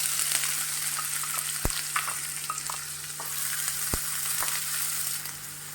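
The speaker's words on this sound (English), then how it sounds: "Let this saute for a while." Onions sautéing in a pan for vegetable pulao, a steady bright sizzle with occasional spatula taps and stirs, close up over a low constant hum.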